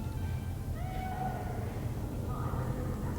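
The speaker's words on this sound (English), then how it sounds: "Don't touch me, naked cat." A hairless cat in the video game Cyberpunk 2077 gives a couple of soft, drawn-out meows over a low droning game background.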